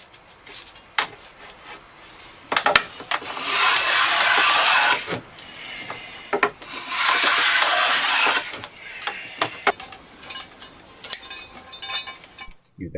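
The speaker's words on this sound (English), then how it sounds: "You then repeatedly inspect and then scrape and then inspect and then scrape until the bow's poundage is correct" A scraper being drawn repeatedly along the wooden limb of an English longbow during tillering, giving bursts of rasping strokes with light clinks and knocks between them, close and fairly loud.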